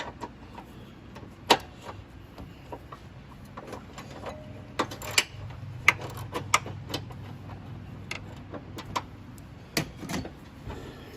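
A wrench loosening a motor mount bolt on a 2016 Ford Escape: irregular sharp metallic clicks and taps over a low mechanical rumble, close by and spaced unevenly, with no talking.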